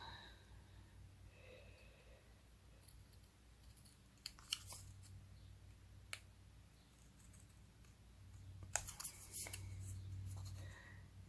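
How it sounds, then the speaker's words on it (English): Paper sheep being fussy cut with scissors for a Stampin' Up! slimline card, quiet close snips and rustles scattered in short bursts over a low background hum. "we want to fussy cut him out. So we're going to cut off his legs."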